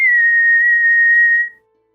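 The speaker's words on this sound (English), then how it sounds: "the bosun's whistle from up above sounds off" A bosun's whistle sounds aboard a ship at sea, a single sustained shrill tone held steady for about a second and a half before cutting off, loud and close, with silence after.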